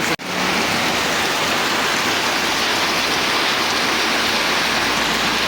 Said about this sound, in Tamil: இன்றைக்கு மழை தொடங்கிட்டுது